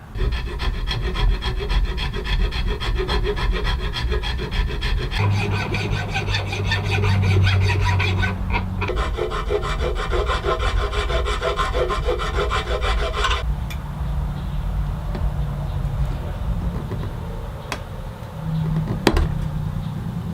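Steady rasping of a file shaping a brass and ebony knife handle, continuous and close for twenty seconds with short pauses and changes in stroke pace, and no talking.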